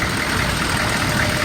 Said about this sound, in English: The motor sounds good. I've had it running for about 45 minutes now. It idles smooth, it revs up nice.